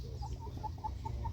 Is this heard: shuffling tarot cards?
no